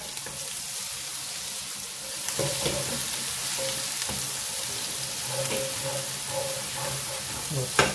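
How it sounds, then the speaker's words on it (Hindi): A ginger-garlic and onion tadka sizzles in a pan, making a continuous close crackle with bursts of stirring scrapes and a sharper spike near the end. Faint talk can be heard under it. "जिंजर गार्लिक और थोड़ा सा हमने प्याज का तड़का लगाना है"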